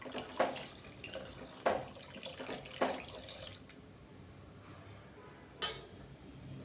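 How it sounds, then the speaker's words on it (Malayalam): Second coconut milk poured in small splashes into parippu payasam, a Kerala lentil pudding, giving three soft liquid splashes followed by a quieter pause and one last pour. "ഈ സമയത്ത് നമുക്ക് 2ാം പാൽ ഒഴിച്ചു കൊടുക്കാം"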